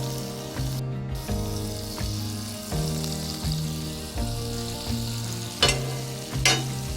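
Three tablespoons of olive oil and a tablespoon of butter sizzle in a smoking-hot pan, a steady close crackle running throughout, with a looping low rhythmic tone underneath and a couple of sharper splatters near the end.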